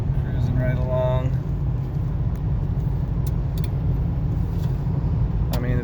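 1998 Cadillac cruising along the road, a steady low engine and tyre rumble heard from inside the car, with someone talking over it at the start.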